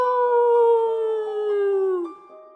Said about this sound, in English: she cupped her hands around her mouth and howled at them